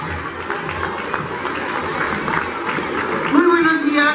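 Applause from an audience at a ceremony as a female school director is introduced, steady broadband clapping throughout, with talk and faint voices over it near the end.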